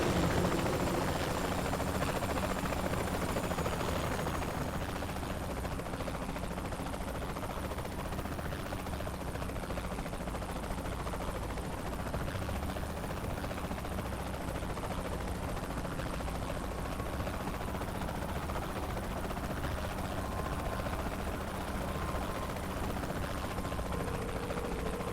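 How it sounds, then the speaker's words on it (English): A helicopter in the video game Saints Row The Third gives off a steady, continuous rotor and engine drone at moderate level across the whole stretch, with no talking. "Where's that guy in the helicopter going?"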